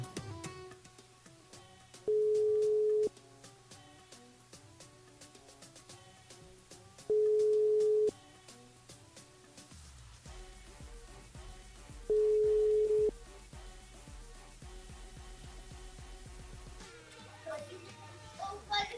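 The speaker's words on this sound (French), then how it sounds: "On appelle Gwenel du côté de Sainte-Suzanne" Telephone call tones as a radio show rings a listener: three evenly spaced steady ringback beeps, each about a second long, sound over soft background music.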